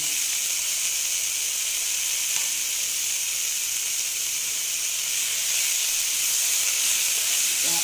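Chopped capsicum with peas frying in a pan, a loud, even, continuous sizzle and hiss heard close up with no talking.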